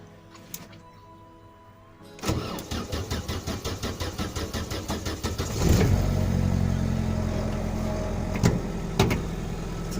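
A revived Opel Astra F, its gearbox in neutral with the clutch pressed, cranks in a rapid rhythmic starter chug for several seconds, then catches and settles into a steady close idle, with a few knocks and clicks.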